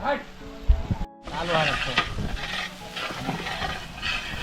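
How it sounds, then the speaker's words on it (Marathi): Onion, bay leaf and whole spices fry in oil for a traditional mutton feast, giving a steady sizzle with scraping stirs. A voice talks over the frying, and there is a brief dropout near the start. "कांदा आहे तेजपत्ता आहे आणि खडा मसाला आहे तो आता फ्राय होतो तेलामध्ये"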